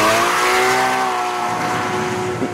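Porsche Cayman GTS engine pulling hard while driving on a track, a loud steady howl with rising harmonic tones, continuous and close throughout with no talk.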